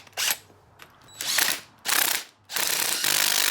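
A 15/16 ratchet tightens the handlebar center nut on a Vitpilen 401 motorcycle during a bar conversion, giving bursts of loud, close ratcheting clicks separated by short pauses, with the last burst running steadily.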